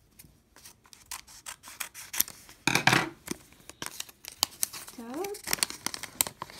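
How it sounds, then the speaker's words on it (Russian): Paper surprise packet being torn open and unwrapped, with close crinkling, rustling and ripping paper in bursts, and a person briefly speaking over it. "Теперь дальше открываем сюрпризик эмоджи."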